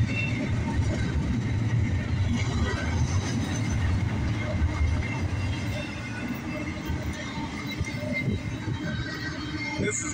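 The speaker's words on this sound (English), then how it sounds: "This is a pretty good intermodal right here." A CSX doublestack intermodal freight train rumbles steadily past at close range, a loud continuous roar of wheels and cars with faint clatter throughout.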